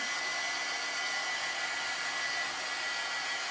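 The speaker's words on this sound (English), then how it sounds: "Let's hit it with the dryer." A hair dryer blows steadily at close range, a continuous airy whoosh with a faint high whine, no voices.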